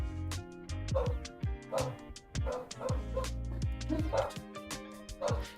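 Several house dogs bark and bay repeatedly indoors, an uneven run of loud overlapping barks, with background music running underneath.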